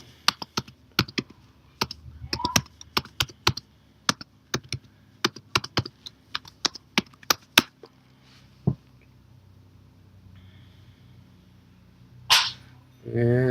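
Crisp clicks of a computer keyboard as a passphrase is typed to open an encrypted Linux volume, about twenty rapid close-up keystrokes, then a quiet pause and a few faint sounds.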